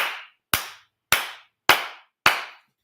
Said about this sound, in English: Yes, I have a very loud clap.